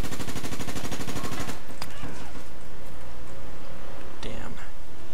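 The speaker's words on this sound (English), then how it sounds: "Oh god, she's still shooting me through the fence." Automatic gunfire in the shooter game APB Reloaded: a fast, loud rattling burst for about a second and a half, followed by a few scattered impact clicks and game noise.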